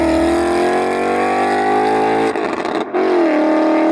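A Ford Mustang GT fitted with Stainless Works headers and exhaust holds a steady, loud, droning engine note, then lets off briefly and comes back on, heard up close with no talking.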